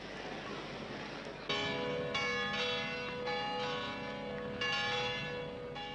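Church bells ring out in a series of overlapping resonant strikes over a faint background hiss, each toll swelling and slowly decaying, moderately distant.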